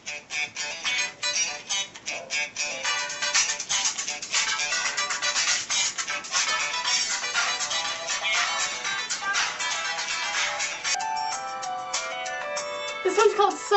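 A cheerful phone ringtone plays continuously as a busy, bright musical loop, fairly loud and uninterrupted, with a short change in texture near the end.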